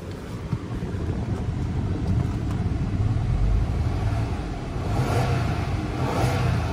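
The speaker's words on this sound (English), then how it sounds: "Let's give it a couple of revs." A 2014 Audi Q7 engine at a salvage auction lot revs with a steady low rumble that swells in a couple of pushes toward the end, heard outdoors with wind buffeting the microphone and no talk.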